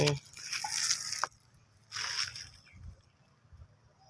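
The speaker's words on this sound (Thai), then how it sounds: "แล้วเราก็นำน้ำซาวข้าวนะคะ มาผสมน้ำรด" Rice-washing water mixed with plain water is poured over potted ornamental plants, giving two close bursts of splashing and trickling separated by a short pause, with faint dripping afterward.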